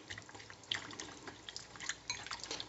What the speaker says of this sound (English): I'll just give it a bit of a whisk up